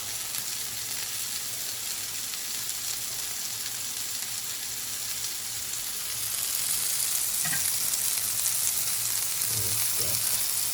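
Onion sizzles and fries in a pan for homemade burgers, a steady broadband hiss that grows louder partway through, with a few soft stirring knocks near the end and no talk.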